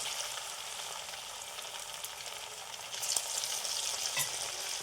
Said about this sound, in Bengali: বাকিগুলো এইভাবেই ভেজে নিব।